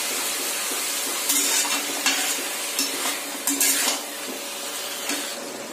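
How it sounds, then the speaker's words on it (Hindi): Chicken frying in a pan for a bhuna masala, stirred with a utensil, giving a steady close sizzle broken by several louder scraping stirs against the pan, no voices. "अब मेरा चिकन हल्का फ्राई हो गया"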